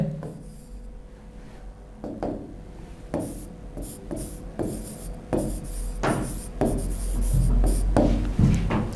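Marker or chalk strokes on a board as English sentences are written, a steady series of short scraping strokes in a quiet room, close and fairly clear.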